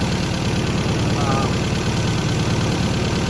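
A car engine runs at a steady, even idle after a repair, heard close and loud as a continuous low rumble with a constant mechanical whir over it.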